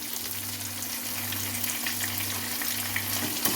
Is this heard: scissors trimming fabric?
no